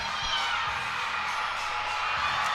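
A baseball crowd at a Columbus cosmic baseball game cheers and whoops in a continuous roar, with shouting voices, including children, mixed into a dense, loud wash.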